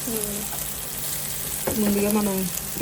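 Ragi flour bun dosa batter sizzles and fries steadily in a pan, a continuous close sizzle with a brief voice speaking over it partway through.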